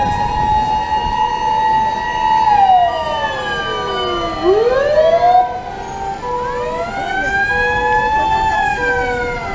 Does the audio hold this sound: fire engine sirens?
yes